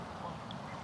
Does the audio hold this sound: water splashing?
no